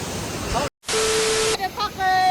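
Cinchona Falls in the Kitanglad Range gives off a steady, hissing rush of falling water, broken by abrupt cuts, with people talking over it.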